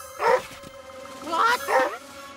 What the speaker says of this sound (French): J'aboie.